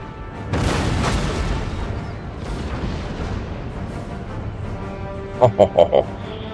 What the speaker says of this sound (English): we've got the demi cannons back here firing through the breach